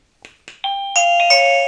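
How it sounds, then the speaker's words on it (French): An ieGeek Bell J10 wireless video doorbell chime sounds close and loud: a few short taps, then a bright, ringing multi-tone melody that holds and overlaps as several notes sustain together. "si je sonne, on devrait entendre le carillon"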